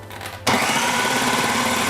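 A food processor chopping carrot starts abruptly after a short quiet moment, then runs as a loud, steady motor whir with a rough, churning edge right up close.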